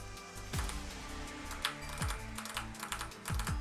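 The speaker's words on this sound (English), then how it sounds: "my cat is just like walking all over my desk like, on my keyboard and stuff" A cat walking across a computer keyboard on a desk, producing scattered clicking and tapping of keys in irregular clusters, close and fairly quiet, with game sounds underneath.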